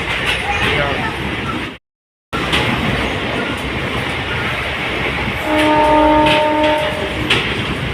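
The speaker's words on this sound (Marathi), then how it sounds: "बघा आपली रेल्वे, जालन्याची रेल्वे डेमो." A Nagarsul–Jalna DEMU train rumbles along steadily with rattling wheels, and a horn sounds in sustained tones near the end; a brief dropout interrupts early on.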